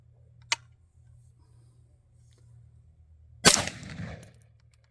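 A gun trigger clicks, then resets with a sharp snap; a single crisp click comes first, and after a pause a louder trigger snap follows with a brief mechanical rattle, close and alone.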